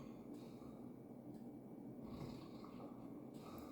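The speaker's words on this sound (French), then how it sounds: "C'est mon chien qui ronfle juste à côté de moi" A dog snoring close by, steady breathy rumbles repeating in a slow rhythm against a quiet room hum.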